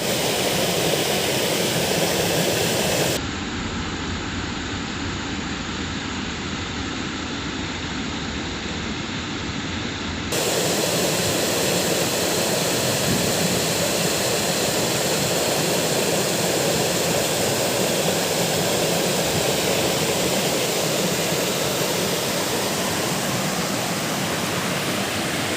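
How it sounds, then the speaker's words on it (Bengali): Steady, loud broadband rush of a waterfall on Ayodhya hill, heard close and continuous without talk, with a brief stretch where the higher hiss drops away before the full roar returns. "দেখো তোমরা ফলস।"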